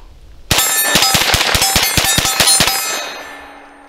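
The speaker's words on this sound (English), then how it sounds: "I try to dump the mags as fast as I can" A Grandpower Stribog fired rapidly at a steel target, giving about ten sharp metallic clangs in quick succession with a ringing decay after the last hit, close and loud.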